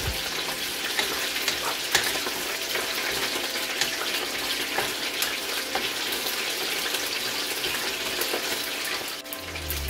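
Sesame seeds toast in a hot pan with a steady, dense sizzle and crackle throughout, occasional sharper pops and stirring scrapes rising above the constant frying hiss.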